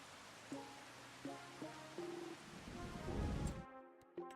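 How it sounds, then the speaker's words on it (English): Steady rain falls in Farming Simulator 25, a broad continuous hiss under a few short game sounds that swells louder toward the end before cutting to near silence. "It's raining."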